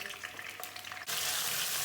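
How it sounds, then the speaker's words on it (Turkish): Oil crackles and sizzles softly, then bursts into a loud, steady hiss as garlic hits the hot pan. "Sarımsağı hafiften bir kızartacağız."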